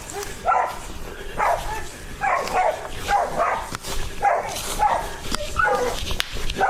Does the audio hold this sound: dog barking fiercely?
yes